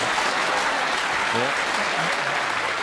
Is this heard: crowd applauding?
yes